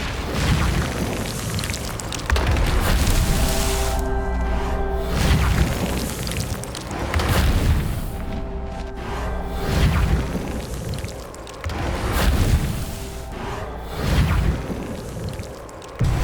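Spells cast in the video game Hogwarts Legacy, heavy booming blasts and whooshing bursts arriving in repeated waves every couple of seconds, loud and close with sustained rumbling swells between them.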